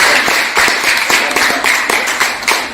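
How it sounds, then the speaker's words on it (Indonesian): An audience at a physiotherapy health presentation claps in a quick, even rhythm, with loud, close hand claps repeating in unison for a few seconds without speech. "Boleh tepuk tangan dong."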